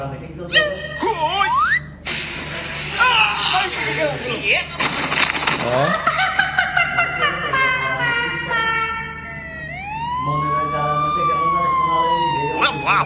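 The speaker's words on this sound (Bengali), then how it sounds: "ওই যে অ্যাম্বুলেন্স আইতাছে" An ambulance siren wails on a busy Dhaka street among auto-rickshaw traffic, its rising and falling sweeps growing clearer toward the end while people talk loudly over it.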